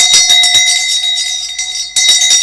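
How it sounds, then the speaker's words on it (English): A bell rings loudly and close in a rapid series of bright, clanging strikes with a sustained ringing tone, pausing briefly before a final burst of strikes. "You first ring the bell"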